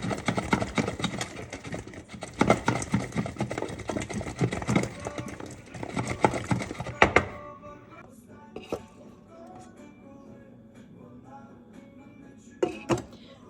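Hot potatoes being roasted with garlic are shaken inside a covered pot, giving a dense, loud rattling and tumbling for about seven seconds, then quieter scattered clinks and knocks.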